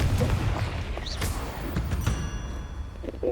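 Spell combat in the video game Hogwarts Legacy, with a Confringo blast: several dull booms and thuds layered over a rumbling, busy game soundscape, moderately loud with no speech.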